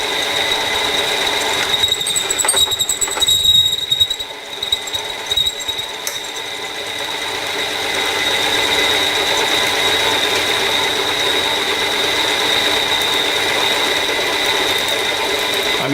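A low-quality drill bit turns slowly under a locked hand-wheel feed while boring through a workpiece, giving a loud, steady mechanical whir with a persistent high whine and rattling gear chatter that grows heavier partway through.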